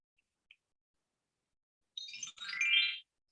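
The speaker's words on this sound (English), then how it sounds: "The chime tells you it's time to go to the next slide." A short electronic chime sounds once, faint and alone after near silence, marking a move to the next presentation slide.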